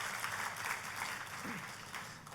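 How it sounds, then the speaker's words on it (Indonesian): A church congregation applauds during a sermon, a faint, distant, steady wash of many hands clapping that continues without a break. "Tepuk tangannya yang meriah buat Tuhan."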